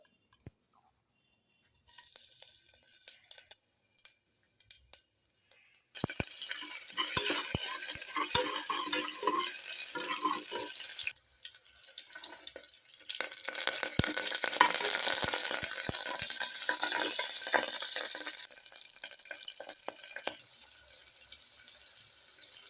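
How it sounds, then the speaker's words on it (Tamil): Whole spices, curry leaves, ginger and garlic sautéing in a pan for ghee rice, with a sizzle that builds after a quiet start and steady stirring and spoon scrapes running throughout, no voices. "பட்டை, சோம்பு, லவங்கம், கிராம்பு, பெருஞ்சீரகம் எல்லாம் போட்டு வதக்கி கருவேப்பிலையை சேர்த்து அப்புறமா இஞ்சி பூண்டு சேர்த்து வதக்கின பிறகு"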